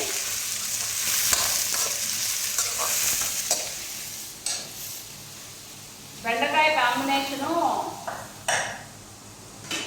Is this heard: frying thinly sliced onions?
yes